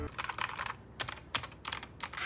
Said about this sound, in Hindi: ये आता है कीबोर्ड कॉस्मिक बाइट की तरफ से वेंथ CBGK28, और काफ़ी अच्छा मैकेनिकल कीबोर्ड है ये